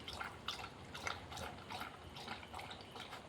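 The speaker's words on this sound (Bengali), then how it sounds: "খাও, পুরো জলটা খেয়ে নাও।" A Labrador dog lapping water from a bowl, a quick run of wet rhythmic laps close by and fairly quiet.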